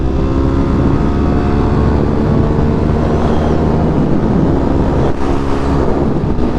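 A 250cc dual sport motorcycle cruises on a highway in sixth gear, its engine a steady, loud drone blended with constant wind rush, with no breaks or gear changes and no talking.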